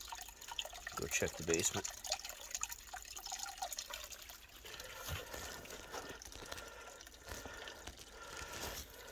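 Water flows and trickles steadily out of a cleared floor drain in a flooded basement, a soft continuous wash with a few sharper splashes early on, under a man's brief speech.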